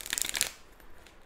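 A quick burst of tarot cards riffling and shuffling for about half a second, crisp and close, then fading into near silence.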